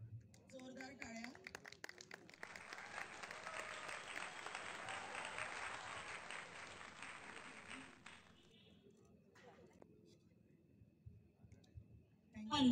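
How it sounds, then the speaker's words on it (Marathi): Applause from a crowd at a 50th wedding anniversary celebration swells and holds for several seconds, then fades to scattered claps, with a voice before it and soft clicking around it. "जोरदार टाळ्या."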